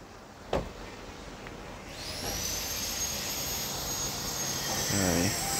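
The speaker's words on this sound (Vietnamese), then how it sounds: "máy nổ quá là êm luôn nhé" An imported Hyundai Accent 1.4 idles with its engine bay open. A steady hum sits under a high whine that rises in and holds, and a brief knock comes early.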